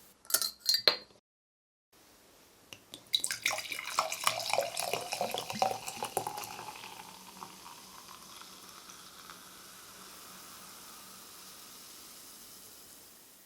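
A bottle of orange soda made with grapefruit, pulp and orange peel extract is shaken: a few sharp clinks, then several seconds of close, rattling sloshing that settles into a soft, fading fizzy hiss.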